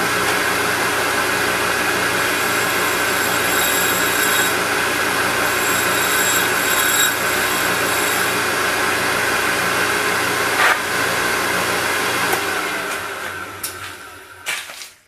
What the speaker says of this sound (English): use my soft aluminum oxide white disc to continue to dress it and do a finer dress on it.